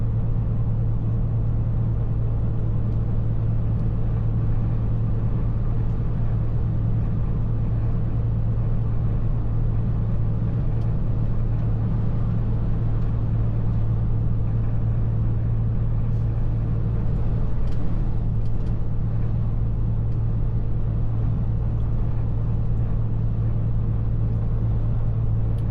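A truck towing a trailer rumbles steadily in 11th gear on the road, a constant low engine drone close and loud throughout with no talk.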